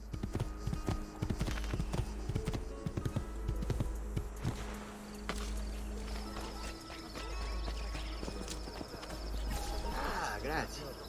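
Horse hooves clip-clop in Assassin's Creed II as the mount is ridden in from the south gate, a steady run of close, rhythmic hoof strikes under game music and a talking voice.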